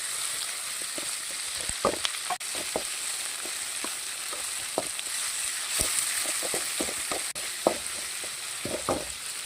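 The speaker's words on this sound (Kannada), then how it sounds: "ಇದೊಂದು ಸ್ವಲ್ಪ ಫ್ರೈ ಆಗಬೇಕು." Onion and tomato with green chilli fry in a pan, giving a steady broad sizzle with scattered clicks and scrapes of a spatula stirring throughout, fairly close, with no talking.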